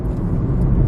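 Car interior during a drive, the vehicle due for a service with another fault found: a steady low engine and road rumble fills the cabin evenly, close and continuous, with no talk over it.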